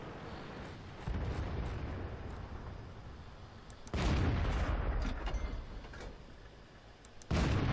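Heavy, booming T69 tank cannon fire in World of Tanks on the Prokhorovka map, with loud sustained blasts and rumbling roars that swell, fade and return in successive waves, with no talking over them.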